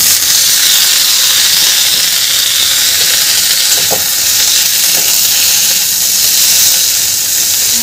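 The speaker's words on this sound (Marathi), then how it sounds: "आता यामध्ये आपल्याला टोमॅटो घालून घ्यायचे आहे" Tomatoes tipped into a pan of frying onions for South Indian thakkali chutney, a loud steady sizzle with stirring scrapes and a brief clatter partway through, no talking.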